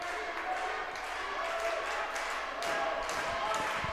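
A crowd cheers and roars in a gym during a high school basketball game, a continuous noisy din with a swell near the end and an announcer speaking over it.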